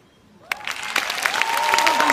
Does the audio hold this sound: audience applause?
yes